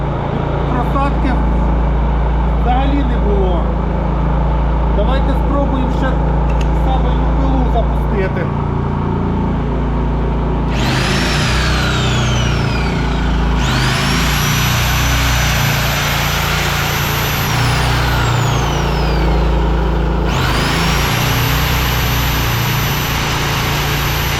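RANGER Kraft 4000 inverter generator running under load, a loud steady engine hum with a high whine that climbs and falls in pitch a few times as the load changes, someone talking over it throughout.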